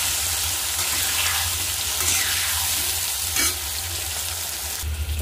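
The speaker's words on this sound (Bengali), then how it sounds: "ওই তেলের মধ্যে আমি আলুগুলো দিয়ে দেবো। আলুগুলো দিয়ে আমি ভালো করে আলুগুলোকে ভেজে নেব।" Potatoes frying in hot oil, a steady close sizzle with occasional stirring scrapes and clinks, continuous and fairly loud with no talking.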